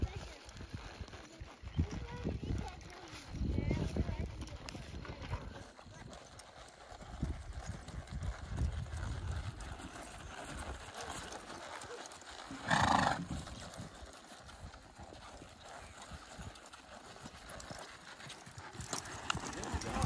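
A quarter horse lopes in circles, its hooves thudding in a rhythmic, muffled clip-clop at a moderate distance while people talk over it.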